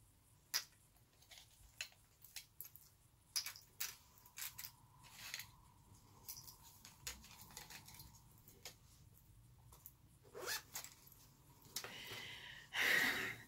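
Several small scissors clinking and knocking together inside a small pouch, a string of sparse, quiet metallic clicks and taps heard close up with pauses between them, with a slightly louder rustle at the end.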